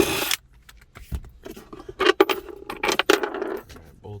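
Metallic clinks and rattles of 10mm bolts and tools being handled while removing the center console of a 2015 Kia Optima, close and intermittent in irregular bursts with quiet gaps.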